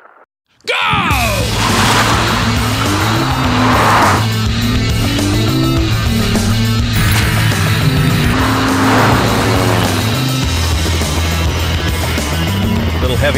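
A Lexus GS F Sport launches hard with a loud engine roar climbing through the gears, then brakes heavily as tires squeal, recorded close from the car on a foggy course, with a voice briefly heard over the engine.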